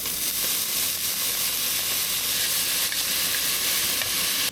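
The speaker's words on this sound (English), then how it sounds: "So I got my crock pot here all warmed up. First thing I'm gonna add is the bacon." Bacon frying in a warmed crock pot gives off a steady, loud sizzle and hiss that holds without a break, with no voices over it.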